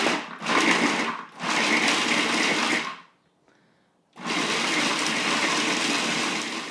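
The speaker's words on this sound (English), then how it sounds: "I'm going to turn on the food processor." A food processor blends nuts and dates for gluten-free, dairy-free brownie batter, running loud and close in two long bursts with a brief silent pause before it whirs on again, with no voices.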